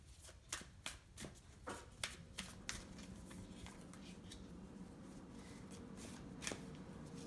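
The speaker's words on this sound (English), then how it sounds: "So let's pull some more cards." Tarot cards being shuffled by hand, a run of crisp riffling flutters in the first half, then a softer continuous rustle, near and fairly quiet.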